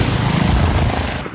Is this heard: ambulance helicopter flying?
yes